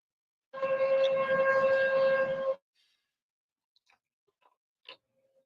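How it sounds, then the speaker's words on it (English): An outdoor tornado warning siren wails in a steady, tonal blast for about two seconds, then cuts off, leaving only a few faint, scattered ticks and clicks. "The tornado sirens going on."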